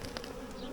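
Honey bees from a swarm buzz in a dense, steady drone, close by and fairly quiet, with no other sounds over it.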